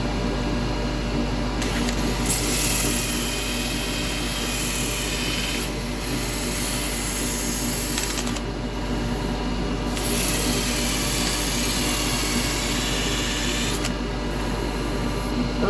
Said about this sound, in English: Don't need much sanding.